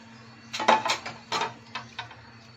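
Three large whole lobsters go into hot salted water in a cooking pot, making a few short clanks and splashes in quick bursts, with no talking.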